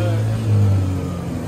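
A small open vehicle that rides like a go-kart pulls away with a loud, steady low engine drone that swells briefly as it accelerates, close up, with some wind noise and no clear talk.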